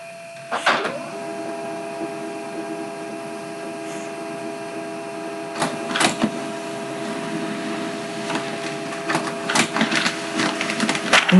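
Office printer running a report job: a steady mechanical whir with a high electronic whine, broken by sharp clicks and clunks of paper feeding and rollers engaging, moderately loud and close.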